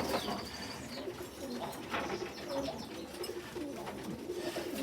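Pigeon cooing nearby, soft repeated low coos with some chirps among other birds, set against a steady outdoor background.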